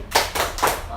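A class of schoolchildren claps out the tepuk sorong rhythm, with a few quick close claps over about a second and voices mixed in.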